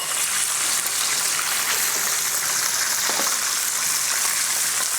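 Chicken nuggets frying in hot oil, a steady dense crackle and sizzle with no letup, loud and close, with no talk over it.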